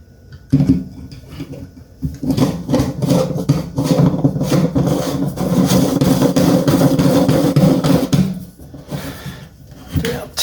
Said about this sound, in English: Now we've got the gasket and the nut, which is going to go on underneath.